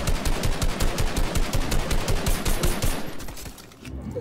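Rapid automatic gunfire in the Fortnite video game, a fast, steady burst of close shots repeating for about three seconds before stopping, followed by quieter game sounds.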